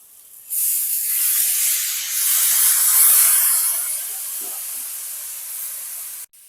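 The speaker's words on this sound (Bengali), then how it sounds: "আমি যে চালটাকে ভিজিয়ে রেখেছিলাম সেই চালটা জল ঝরিয়ে নিয়েছি এবার এই চালটাকে দিয়ে দেবো" Soaked, drained rice hits sautéing vegetables in a hot pan for a soya pulao, setting off a sudden loud sizzling hiss that swells, holds and slowly eases before cutting off abruptly.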